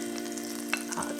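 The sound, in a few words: butter sizzling in a pan for the sauce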